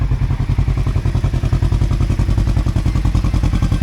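A side-by-side off-road vehicle fitted with a new GGB exhaust runs loud and close, its engine giving a fast, even, throbbing pulse with rattling clatter throughout.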